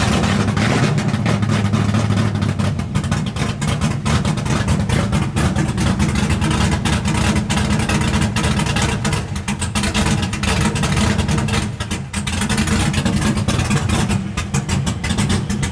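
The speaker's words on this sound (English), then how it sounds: "You sound like a race truck." A cammed Chevy Silverado truck engine with a stage 4 or 5 cam rumbles loudly and continuously nearby, its choppy lopey idle pulsing and swelling with revs throughout.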